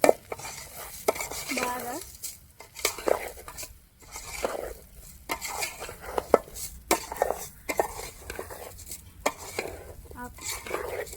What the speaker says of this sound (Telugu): ఇప్పుడు కలుపుకోవాలి.